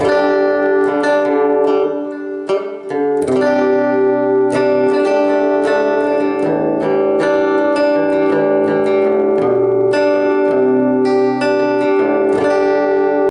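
Strummed acoustic guitar chords through a small acoustic amp, steady and fairly loud, with a brief dip early on before the playing resumes.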